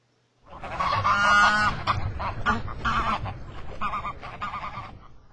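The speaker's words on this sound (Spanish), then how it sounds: "Pinguim, penguin," A penguin gives loud, raspy, honking calls in a long braying run of repeated harsh notes that sound close and fill the whole stretch after a brief silent start.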